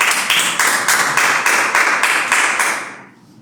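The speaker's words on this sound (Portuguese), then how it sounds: "passo para a minha pastora as palmas que louvam o Senhor Jesus." A church congregation claps in praise during a home worship service, loud, steady rhythmic clapping with a few people close by that keeps going for about three seconds and then stops abruptly, with no voices.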